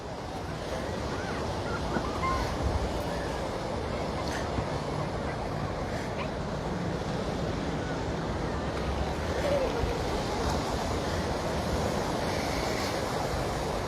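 Ocean waves washing against the seawall at Waikiki at low tide, a steady broad wash mixed with wind noise on the microphone and distant background chatter.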